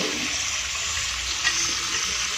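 Peri peri French fries bubbling and frying in hot oil, a steady, dense sizzle that stays even throughout, with a faint stir near the middle.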